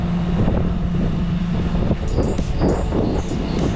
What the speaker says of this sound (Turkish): Çok rüzgar esti inşallah sesi etkilemez